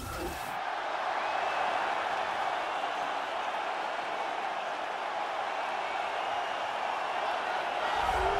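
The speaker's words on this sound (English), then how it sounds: "what a pop from the crowd as this guy makes the walk" Simulated arena crowd roars steadily as a lightweight fighter makes his walk to the cage in a UFC video game bout, a dense, sustained wash of cheering that holds at an even level throughout with no voices standing out.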